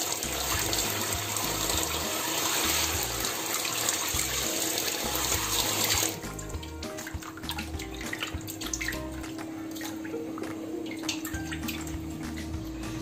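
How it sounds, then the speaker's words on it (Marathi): Tap water running steadily while fish is washed in a kitchen sink, a continuous splashing rush that drops abruptly to a softer trickle with light clatter partway through, no talking. "चांगले मासे धुवून घेते."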